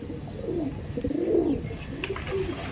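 Madrasi pigeons coo in low, throaty, rolling calls, several overlapping phrases rising and falling close by over a steady background hum.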